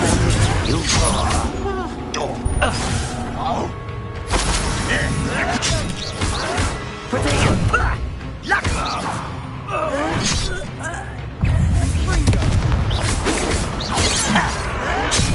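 A Confringo blast spell explodes in a Harry Potter-style PS4 game set in a manor, with crashing impacts and whooshes amid a chaotic fight, loud and continuous with game music and voices throughout.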